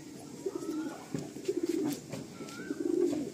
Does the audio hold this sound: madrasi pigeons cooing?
yes